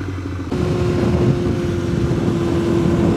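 A motorcycle ridden on the road with its gas light not yet on, the engine note jumping up after a brief lull and holding a steady, loud drone with a clear tone throughout.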